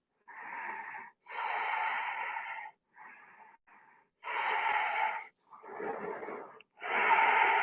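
Breathing held through a yoga pose in a YogaFit energy flow class, a series of close, forceful breaths in irregular bursts separated by short silences, no talk.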